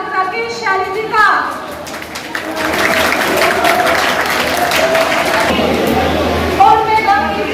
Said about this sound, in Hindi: जोरदार तालियों से स्वागत कीजिए